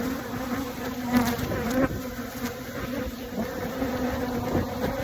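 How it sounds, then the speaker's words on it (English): Angry honeybees swarm around a phone during a late-summer hive split, making a dense, steady buzz close to the microphone, with individual bees whining past in brief swells. "that's the bees attacking my phone."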